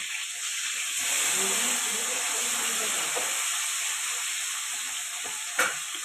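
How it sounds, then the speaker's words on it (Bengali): Tangra fish fry in hot oil with a steady, loud, hissing sizzle that runs unbroken throughout, with no voices. "আমি এখন ট্যাংরা মাছ ভাজবো"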